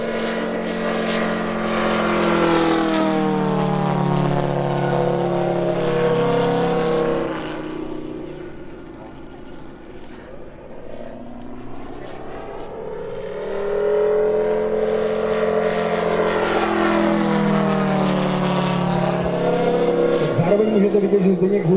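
A small high-revving model aircraft engine buzzes loudly, its pitch rising and falling as it passes, fading briefly in the middle before roaring back close, at a model show.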